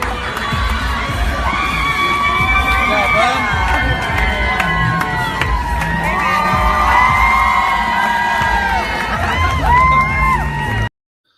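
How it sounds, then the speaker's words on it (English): A loud, dense crowd at a wrestling event roars, shouts and cheers continuously for about eleven seconds, with whoops rising above the din before it cuts off abruptly. "the crowd was going nuts for him"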